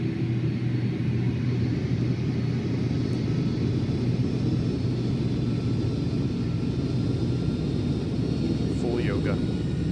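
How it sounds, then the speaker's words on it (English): Simulated Airbus A310 jet engines in a flight simulator game spool up for takeoff, a loud, unbroken low rumbling drone that holds steady throughout. "Let's spool them up. Enjoy the takeoff, y'all."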